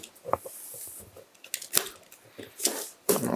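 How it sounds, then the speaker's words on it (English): Cardboard box being cut open, with a series of short, uneven scraping and slicing bursts and crinkly rustles close by, separated by brief pauses. "Okay, let me cut the box open."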